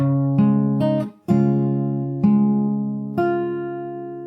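A fingerstyle guitar plays a run of the Animal Crossing New Horizons theme from the start, half a dozen plucked notes and chords in an unhurried rhythm, each ringing and decaying, close and solo.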